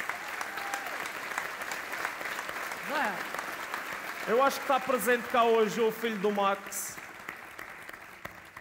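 Audience applause at a centenary musical tribute runs steadily underneath as someone speaks in Portuguese over it, with the clapping continuing around his words.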